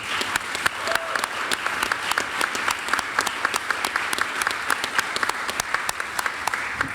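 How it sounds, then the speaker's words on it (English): Press conference audience applauding for Nancy Kramer, with a steady wash of many hands clapping at a constant, moderate level and some sharper individual claps near the front. "Please give her a round of applause."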